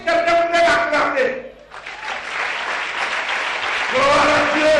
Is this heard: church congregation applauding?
yes